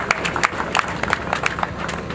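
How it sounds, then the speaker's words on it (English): A crowd applauds at a ceremony honoring the construction firm MP, with dense, overlapping claps of moderate loudness continuing steadily throughout and no voices over them. "I believe they deserve a round of applause"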